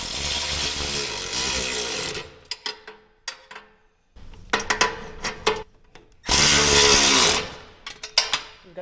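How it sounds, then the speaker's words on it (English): Ratchet on a 13 mm wrench tightening a nut on a Ducati Desert X motorcycle: bursts of fast clicking and rattling, separated by short quiet gaps and single sharp clicks, all close and fairly loud. "I'm going to take our 13 mil wrench, put it on the nut on the back side, and turn the ratchet the right way."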